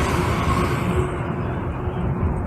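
A Matter Aera 5000+ electric motorcycle with a geared transmission accelerates in third gear. A loud, steady rush of wind and road noise carries on throughout, with no voices.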